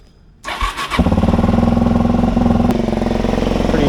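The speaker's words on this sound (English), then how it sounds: "Okay, let's start this DRZ." A Suzuki DRZ400 motorcycle on a cold morning cranks briefly, catches and settles into a steady, loud idle with choke applied, close by and alone.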